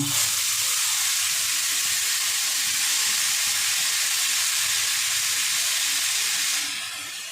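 Grated carrot frying in a dry wok with no ghee over low gas, giving a steady, loud sizzle and hiss that holds evenly for about seven seconds before easing slightly at the end; no voices.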